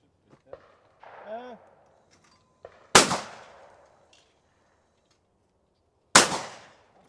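Two sharp, loud shotgun blasts at clay targets, several seconds apart and each ringing out with a decaying echo outdoors, with a thrower's faint clack and brief talking before the first shot.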